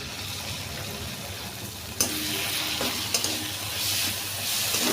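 Mushroom curry with tomato ketchup is stirred in a pan over a gas flame, a steady close sizzle with a few scraping and clinking strokes of the spoon, and no one talking.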